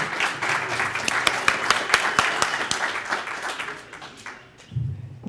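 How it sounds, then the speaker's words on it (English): An audience at a hardware reverse engineering conference talk claps in a sustained burst of applause that fades out near the end, where a voice begins. "Give him a big round of applause."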